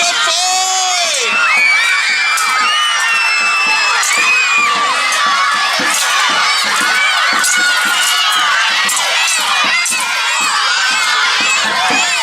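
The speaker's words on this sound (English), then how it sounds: "the louder you cheer, the harder the fight!" A crowd cheers at an armoured sword fighting tournament, with continuous loud shouting, whooping and yelling, and sharp knocks and clatters running through it.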